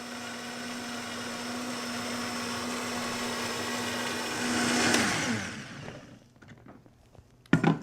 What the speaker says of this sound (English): we'll blend it to a smooth puree